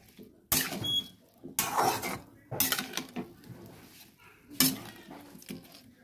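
A spoon scrapes and clinks against a cooking pan while spices are stirred with water for a pumpkin and drumstick vegetable dish, several distinct bursts of stirring separated by short pauses, close and moderately loud.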